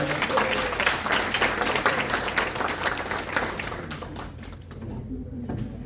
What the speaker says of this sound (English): Round of applause for Misha.